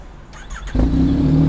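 A Yamaha MT-09 three-cylinder motorcycle engine revs up sharply partway through, jumping to a loud, steady throaty drone with a strong low hum, close by.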